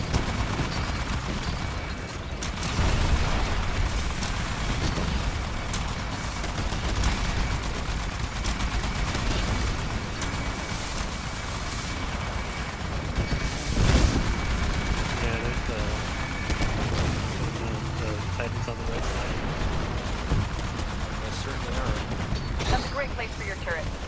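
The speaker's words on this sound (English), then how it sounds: "they still detonate when they die" A Titanfall video game battle fills the whole stretch with suicide spectres exploding and dense, continuous gunfire, a loud, chaotic wash of blasts and shots.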